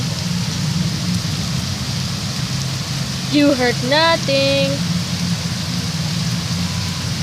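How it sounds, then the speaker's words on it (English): Heavy rain pours down in a steady, dense hiss from start to end, with a short spoken phrase heard over it midway. "I just wanted to do like a little quick video on how much it's raining"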